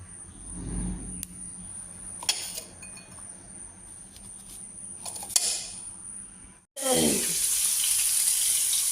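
Sliced pointed gourd (potol) hits hot oil in a pan and breaks into a loud, steady sizzle after a stretch of quiet kitchen sounds.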